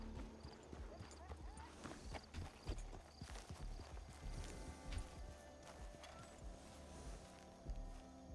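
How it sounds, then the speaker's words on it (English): Horse hooves in the video game Red Dead Redemption 2 clip-clop steadily at a walking pace, fairly close, with a brief whinny-like sound and some faint background noise. "Thought I might have heard some horse hooves from above."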